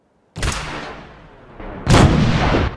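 Artillery fire in the video game Fallout 4: two loud, close booming blasts about a second and a half apart, each with a rumbling tail, the second heavier, with no voices.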